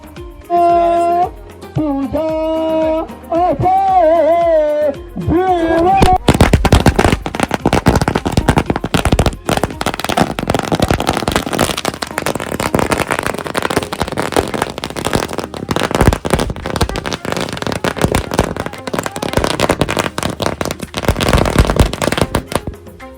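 Strings of firecrackers burst in a long, rapid crackling barrage at a wedding procession in the Tapola area near Mahabaleshwar, loud and close after a short stretch of singing, continuing almost without pause.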